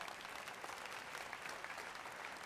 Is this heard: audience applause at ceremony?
yes